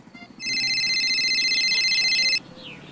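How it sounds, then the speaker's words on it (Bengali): A telephone rings in a steady electronic pattern of repeated bursts for about two seconds, loud and close, with a faint room murmur before and after. "তখনই ফোনটা বেজে উঠল"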